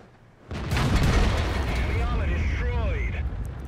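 An FV215b tank fires a shell on Mountain Pass in World of Tanks, a sudden heavy boom followed by a sustained rumbling tail, with someone talking over it.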